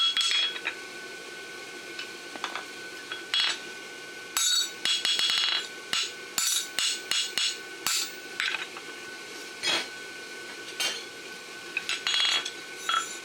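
A blacksmith hammers a horseshoe, forging a lateral extension barshoe: a run of sharp metallic strikes on the anvil with ringing clinks, irregular at first and then quicker, fairly faint over a light room hiss.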